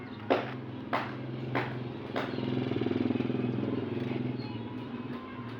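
A motorcycle engine turns over with several sharp clanks, then settles into a steady, throbbing idle running close by.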